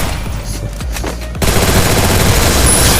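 Shooter video game gunfire erupts in a loud, dense burst after a few softer clicks and taps, the rapid shots continuing steadily to the end with no talk.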